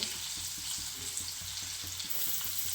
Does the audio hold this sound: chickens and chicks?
no